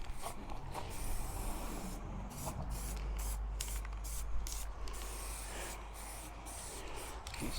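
Spray paint hisses in bursts onto parts of a 1/6 scale Armortek M26 Pershing RC tank model as coats are built up, with a near, steady hiss and frequent brief stops between passes.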